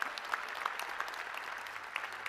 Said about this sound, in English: Let's give everybody a huge round of applause for this amazing achievement